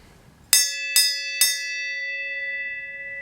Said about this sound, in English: she's gonna ring the bell